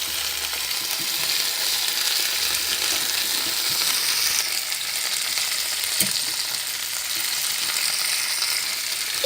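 Stuffed tomatoes frying in a pan give off a loud, continuous sizzling hiss with a few brief knocks as they are turned over.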